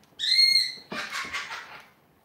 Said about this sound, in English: You hear the little chirping in the background. That is our new cockatiel.